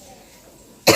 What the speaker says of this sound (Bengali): এখনও কাশি কমেনি